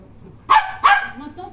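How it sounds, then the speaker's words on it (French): Two sharp dog barks close by in quick succession, with quiet room sound around them. "Laisse-le aboyer, c'est pas grave."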